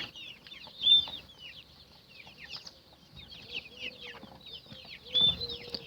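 Broody hens cluck and chatter steadily at close range, with a few louder squawks rising above the ongoing murmur of the flock.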